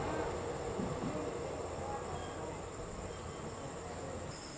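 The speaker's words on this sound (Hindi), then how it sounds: "भोपाल जंक्शन को स्किप करके निकली है Pune Gorakhpur summer special train" The Pune Gorakhpur Summer Special train passes through Bhopal Junction without stopping, a steady, fairly loud rumble of coaches rolling by on the rails with a high metallic whine over it, heard from the station platform.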